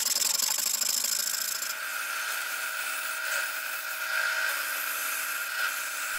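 A wooden instrument neck is shaped by hand with a steady, close rasping scrape that runs continuously with slight changes in pitch and no pauses or voices.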